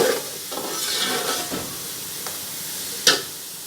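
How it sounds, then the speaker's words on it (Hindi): Frozen peas frying in a pot for matar pulao, a close sizzle with stirring scrapes and a sharp clink near the end, no voices. "इसे फ्राई करते हैं कुछ देर"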